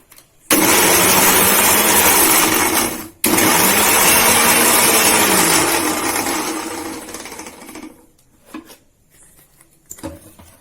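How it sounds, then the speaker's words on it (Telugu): A loud mixer grinder blending mint and coriander chutney whirs steadily for several seconds, pauses briefly, restarts, then winds down and stops, leaving quiet clicks. "వేడి తగ్గింది కదండి మనం మిక్సీ పెట్టుకుందాం"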